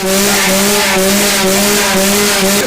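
A loud, close dirt bike engine drones at a high, buzzing pitch, holding steady throughout.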